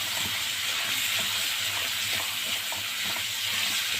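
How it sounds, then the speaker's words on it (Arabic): Onion and chicken gizzards sauté in a pan with a steady, loud sizzle and hiss, broken by faint stirring clicks, with no talk. "البصلة اهي نحطها مع القوانص عشان تاخد تشويحة"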